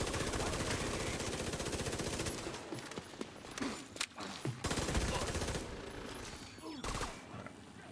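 Rapid automatic gunfire in The Division 2, loud sustained bursts of shots with brief pauses and a few sharper single cracks, with a voice talking over the action.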